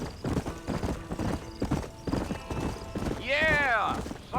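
Horse hooves clip-clopping in the Red Dead Redemption video game, a steady rhythmic trot under a man's spoken line, with a horse whinny rising near the end.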